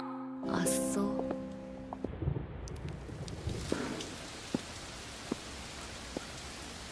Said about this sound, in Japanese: 天気予報、雨だなんて言ってたっけ？